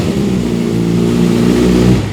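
A heavy motorcycle's engine is revved up in a short sound test, a loud, close, steady roar rising slightly in pitch and holding for about two seconds before easing off.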